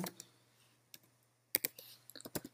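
Code typed on a computer keyboard in a quiet room: a few faint, sparse key clicks with pauses, then short close bursts of tapping near the end.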